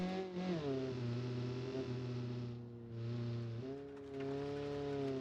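A car engine in BeamNG runs at full power with a steady, loud harmonic drone. Its pitch climbs through gear changes and briefly dips near the middle, and no voices are heard.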